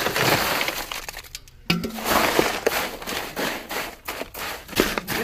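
Ice cubes for a watermelon milkshake crack and shatter in sharp, brittle bursts, close and fairly loud, with a brief pause partway through and no talking.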